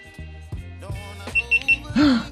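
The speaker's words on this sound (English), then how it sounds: "It beeps, sir. It beeps." A GoPro Hero 12 Black camera beeps as it is powered on, giving a quick series of three short, clear electronic tones followed by a longer, louder rising chime, heard close up.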